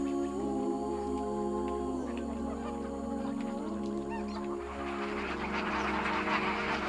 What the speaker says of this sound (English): filming all of the different bird species we could see